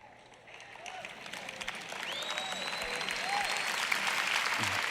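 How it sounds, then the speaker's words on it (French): A church congregation at a sermon starts clapping thinly, and the applause gradually swells and thickens over a few seconds, with faint scattered voices above it. "Ces applaudissements ont commencé plutôt faibles."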